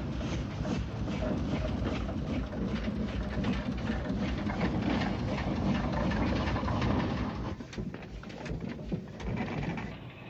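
An Aveling and Porter 0-4-0 locomotive, a traction engine on rails with a flywheel working at a lime works in North Kent, chuffs and clanks steadily and fairly close, alone without talk.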